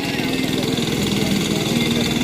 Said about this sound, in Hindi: 3 पहिया वाहन चला रही है।